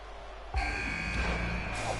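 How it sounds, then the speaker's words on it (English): A buzzer from the Super Pro Wrestle video game sounds as a sustained electronic tone. It starts abruptly partway in and holds steady to the end over game background noise. "Oh, and there's the buzzer."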